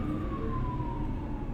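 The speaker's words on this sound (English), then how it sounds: "There's a fire truck going by or something." A fire truck siren wails outside in a quiet residential neighbourhood, a single slowly falling tone over steady low traffic rumble, moderately distant.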